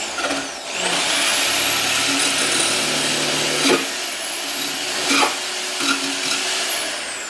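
A drill fitted with a saw disc spins up and whines steadily while cutting off a small tip, loud and close, with a high sustained tone and brief dips in pitch as the blade bites.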